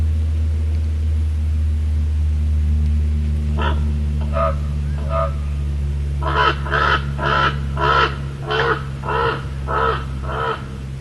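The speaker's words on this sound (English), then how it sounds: "Raven." A raven in Northern California gives three spaced croaks, then a faster run of about eight louder, rough caws, all heard alone over a constant low hum.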